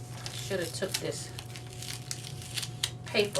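Paper crinkling and rustling on a crafting table while being moved during a memorial lantern project, a series of short close crumpling bursts with faint talk around them.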